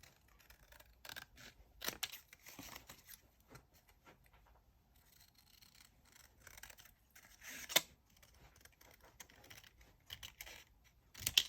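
Scissors snipping flaps off denim: faint, scattered crisp cuts and clicks at close range, irregular and quiet throughout.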